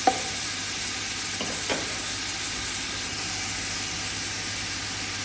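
Curry leaves are stirred and fried in a pan for Kerala-style camel curry, a steady hissing sizzle with a sharp pop at the start and a couple of scraping stirs, with no talk.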